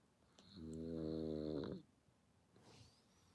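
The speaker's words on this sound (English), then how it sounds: "She's over here snoring away." A pet snores once, close and quiet: a single drawn-out, rumbling breath lasting just over a second, followed by soft silence.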